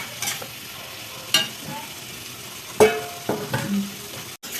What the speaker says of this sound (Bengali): ভালো করে মিক্স করে গ্যাসটা কমিয়ে এখন আমি ঢেকে রাখবো